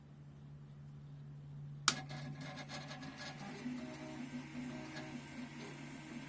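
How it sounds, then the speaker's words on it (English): A 3D printer starts up abruptly after a sharp click, then runs steadily with a whirring motor, stepper tones and light rubbing, scraping movement, moderately close against a constant low hum. "It's printing already."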